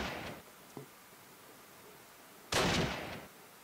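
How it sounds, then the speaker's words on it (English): Two bursts of gunfire in the Close Combat The Longest Day video game, a brief crack followed later by a louder, sustained rattling burst attributed to a German MG42 machine gun, with quiet ambient noise between. "for me it sounds like a true MG42 sound"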